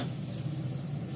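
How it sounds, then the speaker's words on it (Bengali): Dried red chilli and garlic frying in mustard oil in a kadai, giving a steady, even hiss of sizzling that stays constant and moderately loud throughout. "কড়াতে, সরি, শুকনো লঙ্কা দিলাম, রসুনটাও দিয়ে দিলাম"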